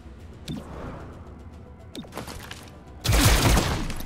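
Scatter-shot gunfire in the game XCOM: Chimera Squad: two sharp single shots about a second and a half apart, then a loud, dense blast of spread fire near the end, close and forceful with no talking.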